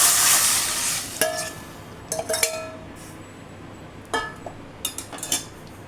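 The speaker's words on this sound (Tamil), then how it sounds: "கடுகு நல்லா பொரிஞ்ச உடனே வெந்தயம் போட்டு அதுக்கப்புறம் காஞ்ச மிளகாய் போட்டு இந்த ரசத்தை ஊற்றி" Rasam poured into a hot tempering of mustard seeds, fenugreek and dried red chili, giving a burst of sizzling followed by scattered clinks and stirring taps of a utensil against the pot.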